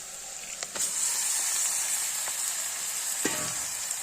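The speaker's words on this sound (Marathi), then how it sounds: "परतून घ्यायचंय मस्त असा खिमा" Mutton keema frying with onions in a pan makes a steady, close hiss and sizzle, broken by a few brief scraping stirs of the spoon.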